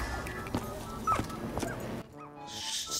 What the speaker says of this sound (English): Shut that stupid dog up.